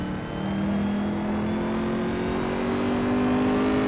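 Corvette C7R race car engine in Assetto Corsa holds a steady, loud high-revving drone, its tone climbing slowly as the car pulls along at speed, with no talk.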